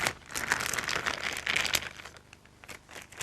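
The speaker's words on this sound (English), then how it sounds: "Fold the bag down over your hand" A disposable plastic icing bag crinkles and rustles close by as it is folded down over a hand, a steady run of crackling handling noise without speech.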